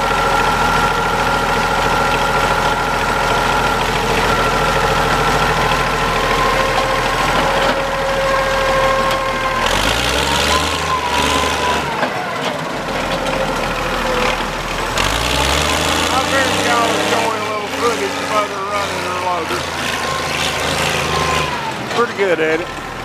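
A loader at a sawmill runs with a loud, steady diesel idle, then its engine revs rise and fall in several surges as it works, while people talk over it.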